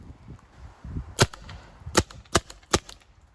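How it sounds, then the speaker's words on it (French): A pyrotechnic ball pistol fires dust-and-spark bullet-impact rounds into a wall, giving four sharp, close cracks at uneven intervals over faint background noise. "Nous allons tirer dans ce mur pour donner l'impression que nous avons tiré à balles réelles."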